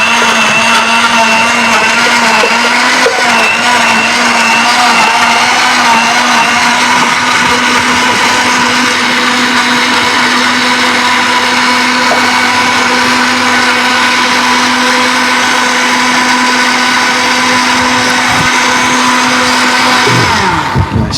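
A blender whirs loudly and continuously, blending apple and orange juice, a steady close motor drone that holds for about twenty seconds before cutting off abruptly at the end.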